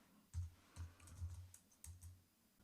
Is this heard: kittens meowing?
no